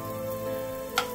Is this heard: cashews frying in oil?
yes